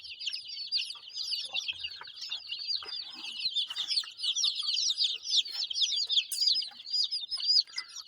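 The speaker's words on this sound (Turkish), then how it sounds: "Bunlar küçük etlik civcivlerimden köy civcivi karışık burası." Many small broiler and village chicks cheep constantly in a high-pitched, overlapping chorus, close by and fairly soft.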